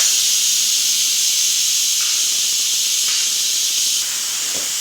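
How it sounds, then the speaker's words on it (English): Steam hisses steadily out of an Instant Pot's vent during a quick pressure release while beef stroganoff cooks, a loud, continuous, unbroken rush that barely changes in level. "I'm gonna slide this lever to the vent position and let all the steam escape."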